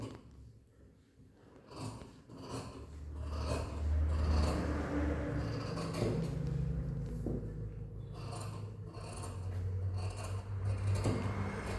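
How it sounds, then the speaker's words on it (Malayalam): Scissors cutting through blouse fabric for a princess-cut blouse, a close, soft series of crisp snipping and sliding strokes over a low background hum. "ഇതൊന്ന് കട്ട് ചെയ്തെടുക്കാം"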